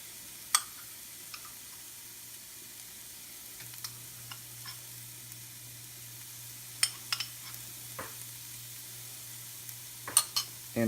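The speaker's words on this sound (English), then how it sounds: "And we're going to stir fry this until it's fragrant." Minced ginger root and garlic stir-fried for orange chicken, a quiet steady sizzle in a pan with occasional faint clicks and scrapes of a utensil stirring, no talking.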